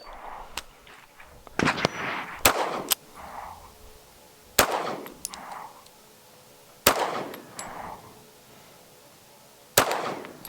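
Sharp pistol shots at a practical shooting match, some ringing off steel targets, come in irregular bursts of one to three with metallic clangs and brief decays between, loud and close, from a sluggish handgun.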